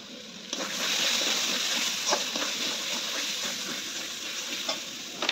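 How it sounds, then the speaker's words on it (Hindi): Liquid pours and hisses into a pot of half a kilo of chicken cooking with chicken masala and meat masala, a steady close sizzling wash with faint stirring clicks and no talk. "पानी आड करदे"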